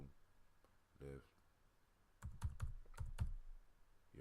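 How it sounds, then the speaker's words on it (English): Typing on a computer keyboard: a quick cluster of close, crisp key clicks in irregular rhythm, preceded by a few isolated taps, in a quiet room during a live stream. "So the typing you hear is me still typing, getting the show ready"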